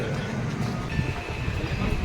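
The Netravati Express runs through the night, heard from inside a mostly empty general compartment as a steady, loud rumble of wheels and carriage noise with no voices.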